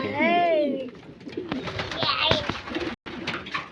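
King pigeons cooing close by, a rolling throaty coo at the start followed by softer calls, with someone talking over them.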